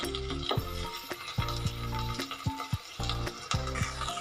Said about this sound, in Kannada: ಅಲ್ಲಿನವರೆಗೂ ಇದನ್ನು ತಿರುಗಿಸಿ ಟೊಮೊಟೊನ ಚೆನ್ನಾಗಿ ಬೇಯಿಸ್ಕೊಳ್ಳೋಣ.